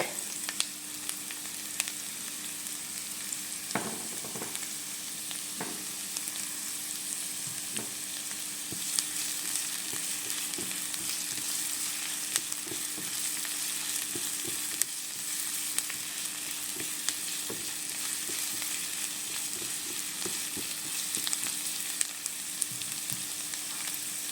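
Garlic sizzles and fries in a pan as the base for eggplant with tuna, a steady crackling hiss with occasional scraping stirs and pops heard up close, with no talking.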